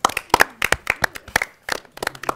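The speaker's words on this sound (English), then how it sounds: "Why don't you give yourself some applause?" Scattered, close clapping at a youth forum, a handful of hands producing sharp, uneven claps in bursts rather than a full audience roar.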